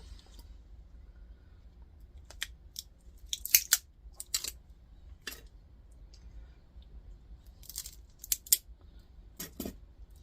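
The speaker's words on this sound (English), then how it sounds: "we'll get the plastic off the copper" Scissors snip plastic insulation off the copper windings of a scrapped power adapter, sharp cuts coming in irregular clusters, close and clear over a low background hum.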